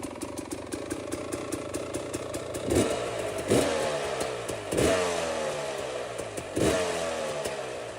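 Small engine fitted with an XTNG GEN3+ carburetor idling, then blipped through four sharp revs that rise quickly and fall straight back to idle, close and fairly loud.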